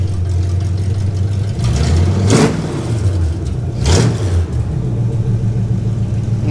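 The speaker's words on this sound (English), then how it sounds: "Give her a rev." A third-generation Camaro Z28 street/strip build rumbles at idle, then revs sharply twice, each blip rising and falling quickly before settling back into a steady, loud idle.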